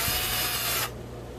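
A small power tool runs a steady whine while backing out screws on an Scx24 RC car, close and continuous for under a second before cutting off into quiet room tone.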